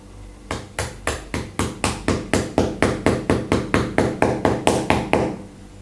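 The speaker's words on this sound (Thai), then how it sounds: "ให้ใช้ก้อนหินนะครับตอก บริเวณปลายดินสอนะครับ" Around twenty sharp, evenly spaced hard knocks of a stone hammering the end of a pencil, a steady rhythm that gradually gets a little louder.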